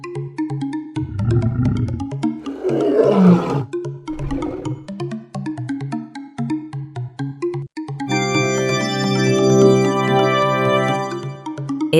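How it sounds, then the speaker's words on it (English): A lion roars in several deep, rasping bursts over a few seconds, loud and close. After a short pause, bright, cheerful music plays on its own. "It's a lion."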